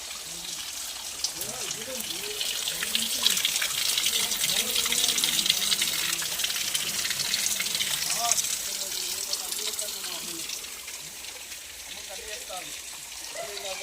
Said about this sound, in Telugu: ఈ గుట్ట లోపలి భాగం నుంచి అయితే వాటర్ అయితే వస్తూ ఉంటాయి